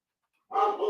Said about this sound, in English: Let me wait for the dog to stop barking, and I will try that again.